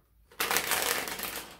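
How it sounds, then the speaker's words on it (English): Tarot cards being shuffled by hand: a single riffling burst that starts abruptly after a quiet moment and runs as a dense, crisp flutter of card edges for over a second, close and clear. "Two more shuffles for Virgo."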